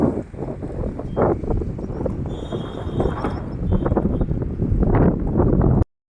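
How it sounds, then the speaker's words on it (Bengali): Strong wind blows along the seashore, buffeting the microphone with a loud, continuous rushing roar that stays steady throughout before cutting off abruptly. "প্রচণ্ড হাওয়া।"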